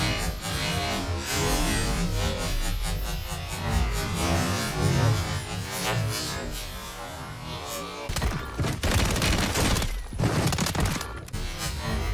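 Rapid gunfire from the video game Warzone 3, dense bursts of automatic shots and crackling impacts layered over continuous game noise, loud and sustained with sharper volleys near the end.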